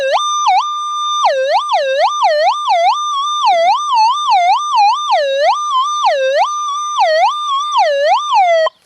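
Pinpoint tone from a Manticore metal detector with an M8 coil: a loud, bright electronic whistle that swells and dips in pitch in a steady, rapid rhythm for several seconds, then cuts off abruptly, with no talking.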